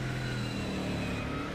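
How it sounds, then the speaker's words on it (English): Mustang GT3 race car moving with steady engine drone and faint high-pitched brake squeal as the brakes are dragged to build heat, continuous and close. "Squeaky brakes, trying to get some heat into them."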